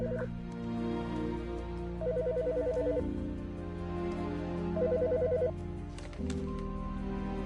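A phone rings in a game called Autopsy Simulator, sounding in three separated bursts of rapid electronic trills over a steady low ambient hum, with no talking.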